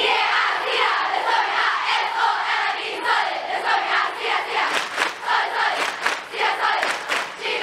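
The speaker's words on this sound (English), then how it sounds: "The Cedar Spirit is synonymous with our famous Cedar Solid Cheer, which is something special that all of us are going to do together today" A large crowd of girls at a secondary school shouts a rhythmic school cheer in unison. The chanted bursts rise and fall, loud and close, with no separate speaking voice.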